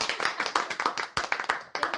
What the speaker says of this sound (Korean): 그럼 박수 한번 주셔야 돼요